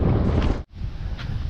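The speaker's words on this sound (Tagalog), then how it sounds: "Lakas ng hangin ah." Strong wind buffeting the microphone outdoors during a typhoon, a steady broadband roar that drops out briefly midway before returning at full force.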